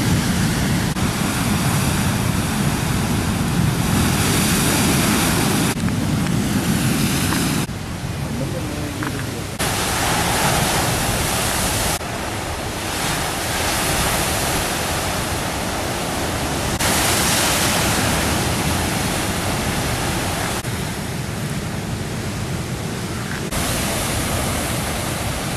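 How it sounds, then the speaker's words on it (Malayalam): Rough sea surf pounds the coast during heavy rain, making a dense, continuous roar of waves and rain that shifts abruptly between sections, with a voice speaking over parts of it. "മഴ കനത്തതോടെ തീരദേശ മേഖലയിൽ കടൽക്ഷോഭം ശക്തി പ്രാപിക്കുന്നു."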